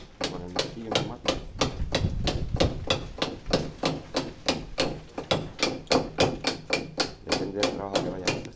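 Hand hammer striking a point chisel on stone during masonry restoration, a steady rapid series of sharp metallic clinks, close and fairly loud, with occasional faint talk.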